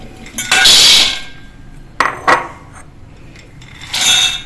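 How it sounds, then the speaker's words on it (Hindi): Raw peanuts are poured into a metal kitchen vessel in two bursts, each a loud rattling patter of hard shells on metal, separated by a couple of clinks and a short pause. "सबसे पहले हम इसको एक बर्तन में डालेंगे"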